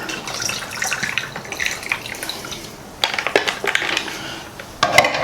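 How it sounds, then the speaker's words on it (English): Soda water pours and fizzes into a glass in two bursts, crackling bubbles and splashes, close up with no talking. "Add some soda water."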